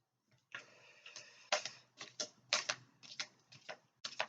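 Angel Guide tarot cards are shuffled by hand in a series of crisp, close riffling flicks and snaps arriving in quick irregular bursts, with no talking.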